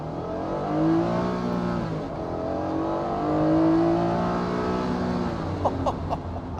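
A Honda NSX-R sports car engine revs up and down in rising and falling sweeps, loud and close, with a brief sharp burst near the end.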